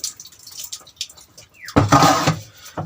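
A crop sprayer tank being rinsed out: water sloshes and gushes loudly and close for about a second after a few faint drips and trickles.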